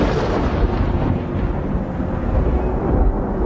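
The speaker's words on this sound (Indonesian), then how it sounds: "tiba-tiba ada suara petir sangat keras menyambar di dekat kami" A loud, close thunder strike rumbles heavily and continuously, dense low roar with no voices, as during a storm on a mountain climb at Mount Sumbing.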